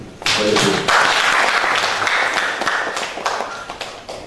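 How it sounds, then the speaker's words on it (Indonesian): Applause from an audience at a regional government coordination meeting on inflation control and food security, a dense burst of hand clapping that starts suddenly and continues steadily for about four seconds. "Mari kita aplaus, ya, kita aplaus dulu."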